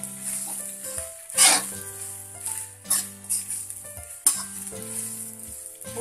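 Ground sesame powder being stirred into cooked rice in a pan for Tamil ellu sadham, giving a steady scraping, stirring rustle with a few sharper clinks, close and fairly quiet with no talk.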